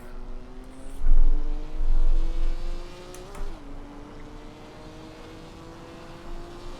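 Race car engine in the Assetto Corsa video game, a steady droning whine lapping a track, rising and dipping slightly as the car shifts, heard alone at moderate level.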